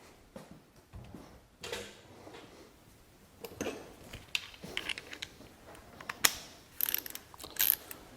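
Bolts being tightened on the idle air control valve of a Ford Escape 3.0L intake, giving a string of close, quiet ratcheting and mechanical clicks in irregular bursts with no talk.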